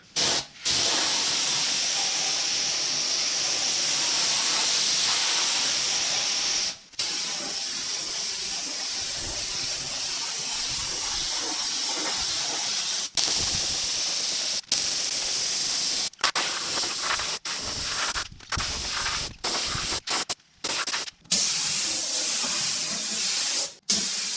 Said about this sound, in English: I'm going to spray that with just some black paint